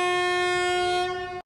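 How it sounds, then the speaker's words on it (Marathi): A passenger train's horn sounds as it departs Ratnagiri station on the Nagpur–Madgaon route: one loud, steady, sustained blast held close by, fading slightly before cutting off abruptly. "रत्नागिरी टाटा बरोबर 12:08 ट्रेन रवाना झाली।"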